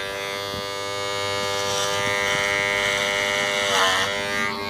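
Electric clippers cutting long hair, a close, continuous buzzing hum that swells slightly as the blades move through the hair, steady for several seconds with no talk.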